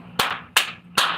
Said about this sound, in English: He's clapping all the time.